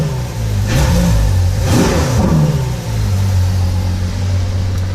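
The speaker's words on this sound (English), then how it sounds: "This car at the higher RPMs, when you're driving on the street, ends up sounding like a Formula 1 car." A 2015 Ferrari F12 Berlinetta's engine revs up twice in quick succession, loud and close, then drops back to a steady idle with no talk over it.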